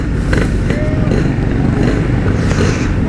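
A Yamaha RX King two-stroke motorcycle engine revs close by with a loud, rough, continuous rumble and a few rising throttle surges, with no clear gap in the noise.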